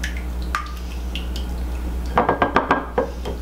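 Eggs scrambled in a bowl for holiday cornbread dressing, a quick run of rhythmic clinking whisk or fork strokes against the bowl after a few scattered taps, close and clear over a low hum.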